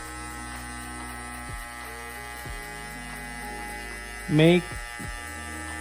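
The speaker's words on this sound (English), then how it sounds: "So bring your clipper up to the half level." Electric hair clippers buzz with a steady low hum during a haircut on straight hair, set at the half guard level for a fade, heard close up while a voice briefly speaks over it.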